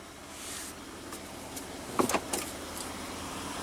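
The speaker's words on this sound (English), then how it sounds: "Automatic driver's side window." An automatic driver's side power window on a 2015 Chevrolet Colorado with a 3.6 L V6 runs with a steady electric motor whir. A short cluster of clunks and thumps comes near the middle as the glass seats, and no voices are heard.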